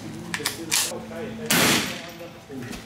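A .38 Special revolver fires into a ballistic gelatin block: one sharp, loud report with a broad decaying blast midway, preceded by smaller clicks and handling knocks.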